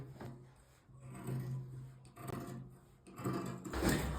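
Scissors or shears cutting through the back panel piece of jacket fabric on a work surface, giving soft rubbing, rasping cuts in uneven bursts, close and moderately quiet with no talking.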